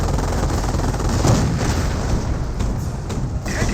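Sticky bomb blast against a Panther tank in Company of Heroes, heard within heavy battle noise as a dense, loud wash of explosions and rapid gunfire that stays steady throughout.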